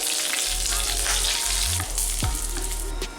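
Mustard seeds, dried chili, curry leaves and garlic sizzle loudly in hot oil, a steady crackling fry with a few stirring scrapes and pops, close and continuous.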